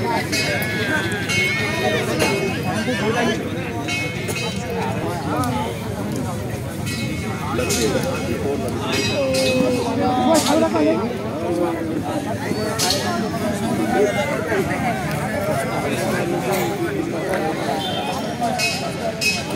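Crowd murmur and scattered voices fill a busy open-air second-hand motorcycle market held on a college field in Meherpur, a steady babble of people with occasional distant engine sounds throughout.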